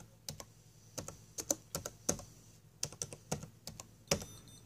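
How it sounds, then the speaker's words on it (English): Keys on a computer keyboard tapped one-handed in an irregular, close rhythm of sharp clicks, some in quick clusters, over a faint steady hum. "I'm typing with one hand while I hold my phone."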